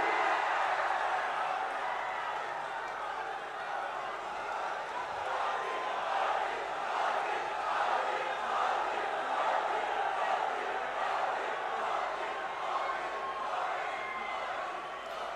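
At a large outdoor political rally in Chandrapur, Maharashtra, a big crowd applauds and cheers to welcome Prime Minister Narendra Modi, a dense, sustained roar of clapping and voices that fills the scene with a speaker audible beneath it.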